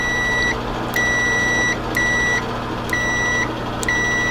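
An ANENG AN8001 multimeter sounding its continuity tester: a clean, steady electronic tone that switches on and off in about five half-second bursts with short gaps, close and loud over a faint hiss.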